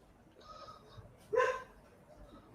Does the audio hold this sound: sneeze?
no